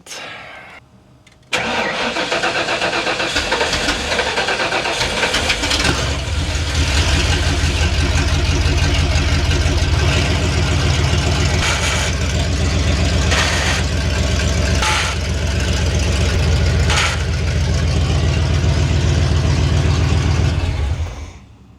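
A big-block engine in a Ford Bronco that sat off the road for 13 years cranks and catches, then runs loud and steady with a deep, rough rumble while the truck is being moved, with no one talking.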